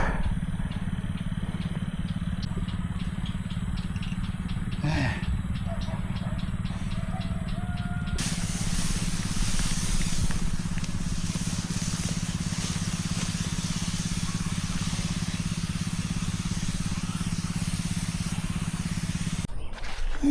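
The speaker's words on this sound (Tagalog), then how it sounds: "tapos na rin mag-spray sa inyo" A motorized sprayer applying chemical runs steadily with an engine drone throughout, and a louder hissing spray cuts in partway through and holds until the end.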